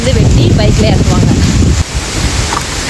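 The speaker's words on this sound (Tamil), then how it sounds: "அப்பா என்ன காற்று!" Strong wind roaring and buffeting during heavy rain in Kerala, a loud continuous rush that drops off slightly partway through, with some voices faintly under it.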